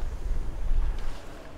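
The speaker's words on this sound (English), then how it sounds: "And the waves that got a little more crazy now here." Sailboat pitching through rough waves on the Kattegat off Denmark, with low rumbling wind buffeting the microphone and water washing against the hull in uneven surges.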